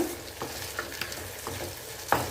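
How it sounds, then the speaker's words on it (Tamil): Chickpeas, drumstick and brinjal are stirred into frying onions in a pan for a Tamil chickpea kuzhambu, giving a low sizzle broken by several sharp scraping spoon strokes spaced about half a second apart. "இப்போ நம்ம எடுத்து வச்ச அந்த சுண்டல் முருங்கைக்காய் கத்திரிக்காய் எல்லாத்தையும் சேர்த்துடலாம்"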